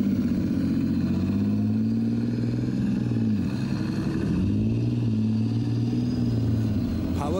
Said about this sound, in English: Powered by its vast rear-mounted Rolls-Royce CV12 turbocharged diesel engine